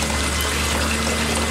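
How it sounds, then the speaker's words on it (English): Water pours steadily from an outdoor shower, a constant close hiss and splash with no pauses and no talking. "I'm outside getting my shower on because we're supposed to conserve water."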